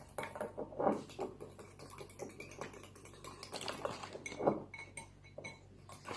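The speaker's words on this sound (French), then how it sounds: "Fouette bien." Cake batter whisked in a bowl for a healthy oat bowl cake, with quick clinking taps of a utensil against the bowl coming in close, uneven bursts and no voices.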